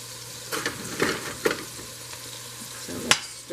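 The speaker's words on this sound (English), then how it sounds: "Stir the pot." Meat seasoned with black and cayenne pepper sizzles in olive oil in a pot for healthy nachos while a spoon stirs it, giving a steady frying hiss with several soft scraping strokes.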